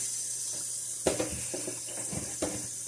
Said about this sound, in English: I'm going to turn you a little bit more over so you can see it just getting rinsed.